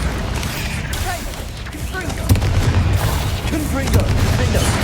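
Bombarda exploding spell cast in Hogwarts Legacy, heard as a loud dense booming blast with crackling impacts layered over a busy game soundscape, with a voice speaking beneath.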